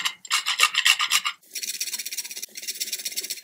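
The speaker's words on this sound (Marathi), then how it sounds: "ह्याच्यामध्ये मी जायफळ किसून घालणार आहे" Nutmeg is grated by hand over a jaggery and coconut filling. Close, rhythmic rasping strokes come in two quick runs separated by brief pauses.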